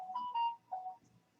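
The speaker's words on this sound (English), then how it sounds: "And there's my phone going off" A mobile phone ringtone plays a short electronic melody of a few tonal notes, moderately loud and close, with no talking over it.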